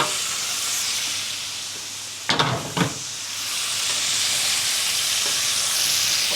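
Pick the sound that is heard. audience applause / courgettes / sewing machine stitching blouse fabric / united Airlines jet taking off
courgettes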